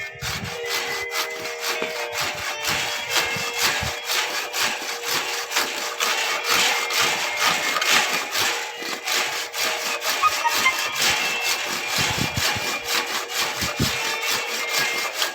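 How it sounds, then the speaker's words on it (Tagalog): Wood sawn by hand with a hand saw for a garage build, a long run of rhythmic rasping back-and-forth strokes, close and loud throughout with no voices. "dahil naglalagari na. Kahoy."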